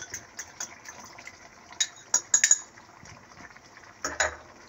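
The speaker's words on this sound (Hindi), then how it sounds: "इस तरह फेंटते हुए।" Yogurt being whisked into chicken karahi in a pot, with light clinks and scrapes of a utensil against the metal and a few sharper taps, close and fairly quiet with no talking.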